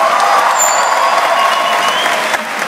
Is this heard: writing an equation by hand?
no